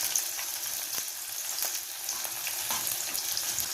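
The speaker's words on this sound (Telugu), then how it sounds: "ఆయిల్ బాగా వేడెక్కిన తర్వాత మనం కట్ చేసుకున్న ఆనియన్ స్లైసెస్ని అందులో వేసేసి ఇట్లా ఒకసారి కలుపుకోవాలి." Sliced onions sizzle in hot oil, a steady crackling hiss with a few soft clinks and scrapes as they are stirred, close and continuous with no voices.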